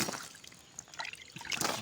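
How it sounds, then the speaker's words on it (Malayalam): Brief, quiet splashes and trickling as water is poured, irregular and close, with no one speaking. "കുറച്ച് വെള്ളം ഒഴിച്ച്"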